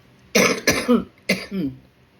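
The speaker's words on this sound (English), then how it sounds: "Just excuse me, I've got a cough." Three sharp coughs close by, the first two quick together and a third after a brief pause, with a throaty rasp trailing off.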